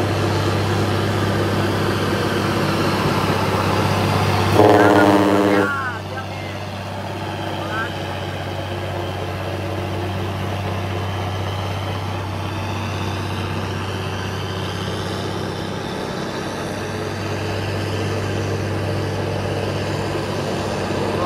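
Hino 500 Euro 4 truck engine labouring uphill in low gear on a steep port climb, a steady loud low drone throughout with a brief harsher burst near the start, under occasional talk.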